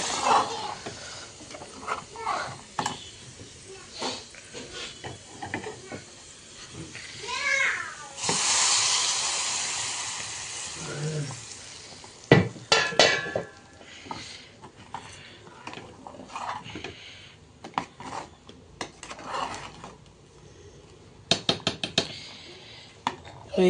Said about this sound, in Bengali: রসুন একসাথে করে ভেজে নিচ্ছি